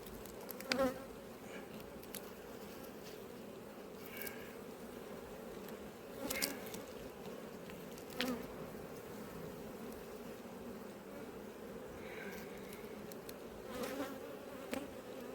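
Honeybees at an apiary hive being opened to check a slab of brood give a faint, steady, low buzzing drone that runs throughout, with a few brief louder passes and clicks and no voices.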